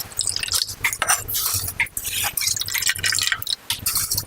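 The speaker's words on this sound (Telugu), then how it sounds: "ఇప్పుడు ఈ బియ్యాన్ని అందులో యాడ్ చేసుకుందాం" Washed, drained rice poured into boiling water for vegetable biryani, a busy run of wet splashing and dripping spread across the whole stretch, close and fairly loud with no talk.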